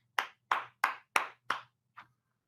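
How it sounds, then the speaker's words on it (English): Five sharp claps in a steady rhythm at a school open house, followed by a softer sixth, close and isolated over a faint low hum. "Let's give another round of applause."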